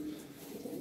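Pigeons kept as breeding and flying stock, spotted and crested birds, cooing in a low steady murmur close by, a continuous soft throaty drone without breaks.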